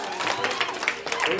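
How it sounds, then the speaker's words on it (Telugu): Schoolchildren clapping loudly at a school day prize giving for a road safety drawing, a dense, steady patter of many small hands with crowd noise and a bit of talk mixed in. "క్లాప్స్ కొట్టండి రా గట్టిగా"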